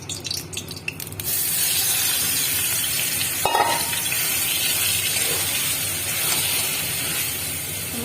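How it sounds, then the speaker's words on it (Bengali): Amla (Indian gooseberry) paste dropped into hot oil in a kadai bursts into a loud, close, hissing sizzle that holds steady for several seconds after a brief clatter at the start, with no voices. "তেল মিক্সিতে পেস্ট করে নিয়ে কড়াইতে তেল দিয়ে আমলকিটা ছেড়ে দেবো।"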